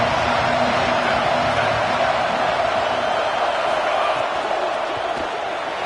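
Dense, steady roar of a stadium crowd at an American football game, loud and continuous with a commentator's voice faintly underneath.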